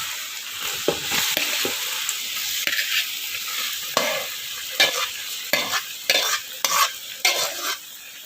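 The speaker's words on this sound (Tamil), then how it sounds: "எண்ணெயில் நல்லா பெரட்டி விட்டுலாம்" Three kilos of cut lemons are turned in hot oil in a pan for lemon pickle, giving a constant sizzle with repeated scraping stirs of a spoon through the lemons, close and steady.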